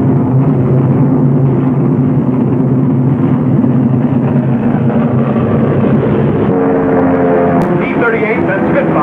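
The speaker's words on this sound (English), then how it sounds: "American P-38s rise to the attack." World War II American P-38 Lightning twin piston-engined fighters take off from an Allied airfield near Bonn, making a loud, continuous droning roar that rises in pitch toward the end, set against steady background noise.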